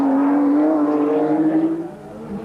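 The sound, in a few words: Nissan R32 GT-R race car driving through the final left-hander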